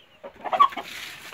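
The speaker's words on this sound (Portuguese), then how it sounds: "Muito bom galo." A large Japanese Indian game rooster clucking close by, a short run of soft, throaty clucks rising briefly in loudness and then settling.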